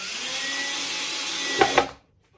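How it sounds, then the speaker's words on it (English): A power drill drives a screw into a wooden guitar mould, a steady close whine lasting about two seconds with a couple of sharp knocks near the end before it cuts off. "put one screw through there, and then we just do it up"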